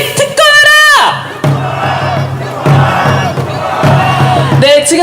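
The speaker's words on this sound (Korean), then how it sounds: "거리에 계시는 시민분들께서 엄지척도 해주시고 인사도 해주시고 굉장히 뜨겁게 환호를 보내주고 계십니다" A street crowd at a presidential impeachment march in Seoul shouts and cheers. Loud chanted calls and whoops come in waves with amplified voices, and a drawn-out rising shout opens the stretch.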